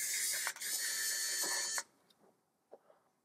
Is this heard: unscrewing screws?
yes